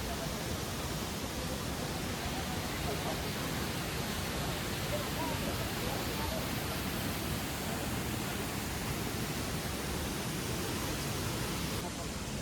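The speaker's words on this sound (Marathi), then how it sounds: "हा आहे वॉटरफॉल." Waterfall in Pelling, South Sikkim, heard as a steady, dense roar of falling water that stays unchanged throughout, loud and close, with no talking.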